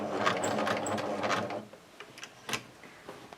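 Sewing machine stitching a tote bag: a close, rapid mechanical whirr of stitching for about a second and a half, then it stops, leaving a few faint clicks and handling noises.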